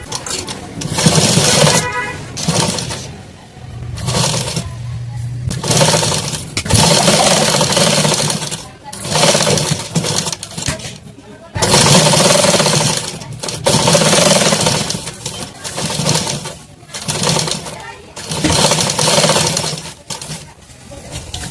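Sewing machine stitching piping onto a katori blouse, loud close bursts of rapid mechanical whirring that start and stop repeatedly with short quiet gaps between runs.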